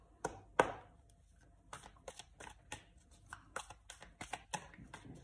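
Oracle cards (Oracle des Lumières d'Inanna) shuffled by hand for a card draw, a series of soft, close riffling taps and slaps in an irregular rhythm against a quiet room.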